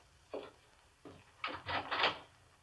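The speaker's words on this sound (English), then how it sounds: "And he went to the door." Door in an old 1945 radio drama opening with a latch click, then a creak and a few wooden knocks and bumps, close and moderately loud, no voices.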